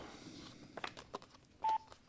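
A short, faint electronic beep sounds once amid quiet room noise and soft rustling.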